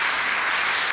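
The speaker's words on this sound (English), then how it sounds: "Since you clapped" Audience applause at a community celebration, a dense, steady wash of many hands clapping filling the whole short moment, fairly loud and without voices over it.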